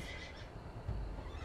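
Horses of armored Panzer Cavalry units whinny in the medieval strategy game Ancestors Legacy, a loud neigh over a dense bed of game ambience and hoof movement.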